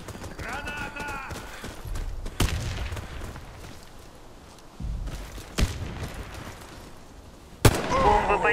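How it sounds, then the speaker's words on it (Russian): Gunfire and a grenade blast in the shooter Warface, sharp separate bangs spaced across the stretch with a heavier burst near the end, mixed with game announcer voices and player chatter. "Граната!"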